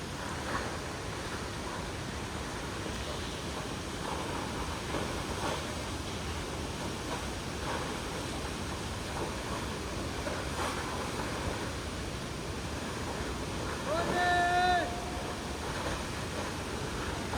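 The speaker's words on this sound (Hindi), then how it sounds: "इतनी तेज़ आवाज़ और इतनी तेज़ हवा चल रही है इसके पास में, पानी उड़ के आ रहा है यहाँ तक" A waterfall near Badrinath roars as a steady, broad wash of rushing water, with strong wind and spray, continuous and close throughout.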